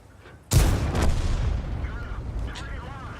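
A single sharp, loud main-gun blast from a WZ-131 tank in World of Tanks, firing at an SU-100M1, followed by a rolling echo and fading battle rumble with faint game sounds behind.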